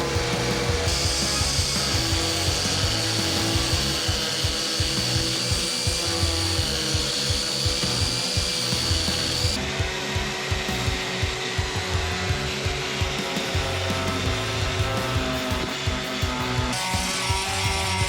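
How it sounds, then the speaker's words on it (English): Belt sander working over a boat mold being prepared for gelcoat, a steady loud abrasive grind with rhythmic rubbing strokes that runs continuously and alone, with a brief shift in tone partway through. "Belt sander did an absolutely awesome job on this."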